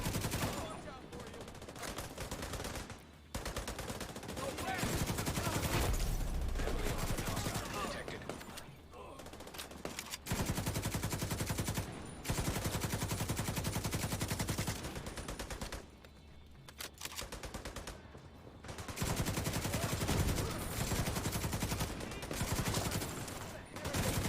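Dense, continuous light machine gun fire in The Division 2, long rattling bursts that run almost without pause and drop out only in brief gaps, loud and close.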